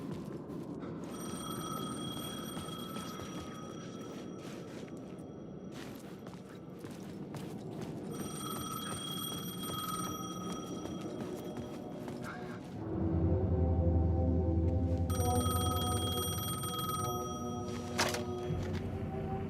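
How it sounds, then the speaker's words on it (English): A payphone rings repeatedly in the Alan Wake 2 video game, its bursts of bell-like ringing separated by short pauses over a dark ambient background, with a heavier rumbling layer coming in near the end. "The payphone was ringing."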